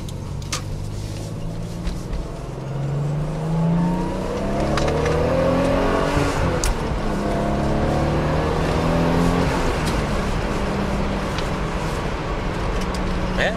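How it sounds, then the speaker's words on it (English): A Toyota Supra JZA80 with a 2JZ engine and HKS exhaust revs in repeated rising pulls at close range, the exhaust note climbing and settling between throttle blips. "Just open it up a little bit and see how well this 2JZ is running."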